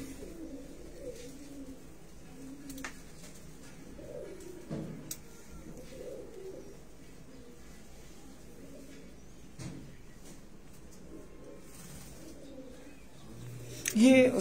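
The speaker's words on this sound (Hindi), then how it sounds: "ये बेसिकली मतलब कबूतर पीछे तो मतलब ये कसूरी कबूतर ही है ना। कसूरी कबूतर है" Kasuri pigeons at a breeder's loft cooing in repeated soft low rolling calls, close but quiet, with people talking intermittently over them and a louder bump at the end.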